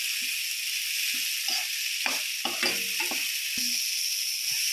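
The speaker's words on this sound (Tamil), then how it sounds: "கொஞ்சமாக தேங்காயும் சேர்த்து இது கூடயே லைட்டாக வதக்கி எடுத்துடலாம்" Grated coconut for a chayote curry is sautéed lightly in a pan, giving a soft continuous sizzle with a few scattered scrapes and clicks of stirring up close.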